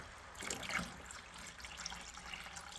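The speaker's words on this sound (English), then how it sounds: "I'm going to pour some water in here" Water is poured into the well of a rock trim saw, a soft splashing trickle that swells briefly, then settles into a faint, steady dribble up close, with no voices.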